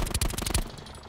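Rapid automatic gunfire aimed at a helicopter in Call of Duty Blackout, a quick burst of about half a dozen loud, close shots that ends abruptly and leaves a short fading tail.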